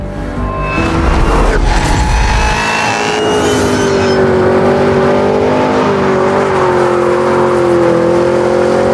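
Cadillac CT5-V Blackwing V8 engine revving loudly and close, a rising, sustained roar with shifting pitch that settles into a steady high drone, alone without talk.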